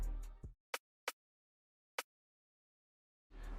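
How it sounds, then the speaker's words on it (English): A 'levitating hi-hat' drill drum sample, a few crisp isolated hi-hat ticks spaced apart in near silence, clipped at the edges by bits of other sound. "I used my hi-hat called levitating hi-hat."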